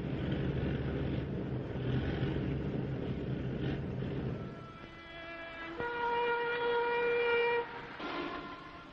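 Freight train in 1960s Canada carrying steel fuel flasks on its rear cars, heard as a steady loud rumble that gives way to a long sustained whistle blast, no voices.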